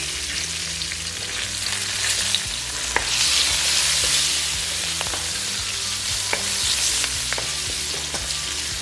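Oil sizzles and crackles steadily in a pan as a tomato cube reddens it, with onion, garlic, thyme and pepper stirred in. The frying is close and continuous, with occasional utensil clicks and scrapes and no talking.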